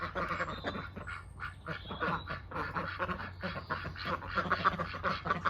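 A flock of ducks on a smallholding quacking busily and continuously nearby, overlapping calls forming a noisy chatter with a low hum underneath.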